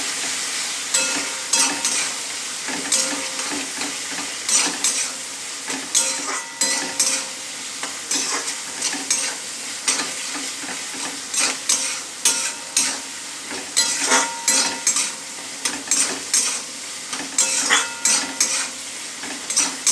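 Chili egg with sauces being stirred and fried in a pan, loud and close: a busy sizzle under rapid, repeated utensil scrapes and clinks against the pan, with no talking.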